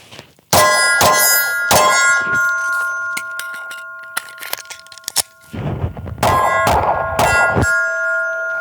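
Glock 43X pistol shots ringing off steel targets on a range, several loud cracks each followed by a sustained metallic clang, in two close bursts separated by a quieter pause, no speech.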